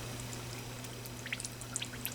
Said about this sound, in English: you'll add 1 cup of water.